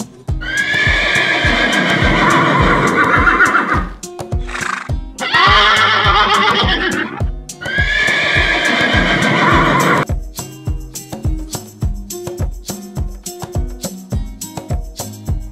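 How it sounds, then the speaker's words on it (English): A horse neighs in three long, loud whinnies over a steady clip-clop of hooves, with a rhythmic tapping beat carrying on alone after the calls end; no speech. "Horse. And the sound of the horse is"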